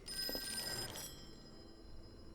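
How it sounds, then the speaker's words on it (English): A telephone rings in the Call of Cthulhu video game, a bright electronic bell ringing loudly for about a second and then cutting off, leaving a quiet room tone. "Let's pick up that phone."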